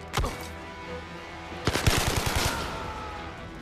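Gunfire in the VR shooter Zero Caliber, survival mode: a single loud shot, then a rapid burst of several close shots in quick succession, with no talking over it.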